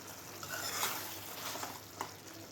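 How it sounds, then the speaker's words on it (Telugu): Tomatoes fry in a pan for tomato chutney, making a faint, continuous sizzle with a few soft stirring scrapes, heard close and alone without speech. "టమాటోస్ చాలా బాగా ఫ్రై అయిపోయాయి చూడండి"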